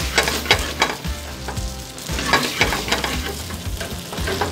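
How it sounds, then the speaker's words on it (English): Gnocchi browning in butter in a pan with sherry-sautéed mushrooms, giving a steady sizzle broken by frequent scraping stir strokes and clinks of a utensil, close and fairly loud, with no talking. "So, we're going to brown those gnocchi up"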